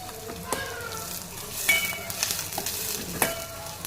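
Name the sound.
onions sautéing in a pan for rasam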